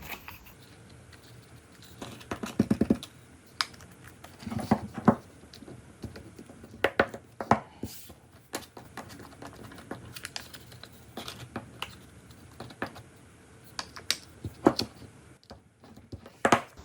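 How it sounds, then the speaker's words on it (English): Paper sheets for a small hardcover book being folded exactly in half two or four at a time, giving soft, scattered crisp rustles and creases in irregular bursts at close range, with no talking. "I will now fold them, perhaps 2 or 4 at a time. I will fold them exactly in half."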